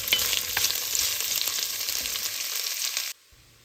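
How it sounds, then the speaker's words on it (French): Onions frying in a pan with a splash of oil or butter, a steady close sizzle with small pops and crackles that continues alone before cutting off abruptly near the end. "dorer les oignons à la poêle avec soit un filet d'huile, soit du beurre, jusqu'à ce qu'ils deviennent bien dorés"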